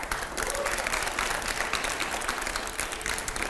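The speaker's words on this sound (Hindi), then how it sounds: "जोरदार तालियों" Loud, sustained applause from a studio audience at a televised Hindi debate show, dense and steady from start to finish without a break.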